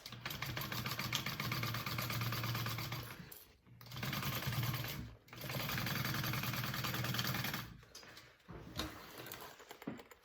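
A sewing machine stitches the box corners of a fabric bucket bag, running in steady, fast mechanical bursts with two short pauses, close and continuous.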